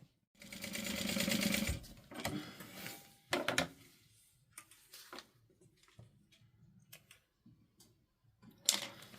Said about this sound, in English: I'm going to sew this down at 1/4 of an inch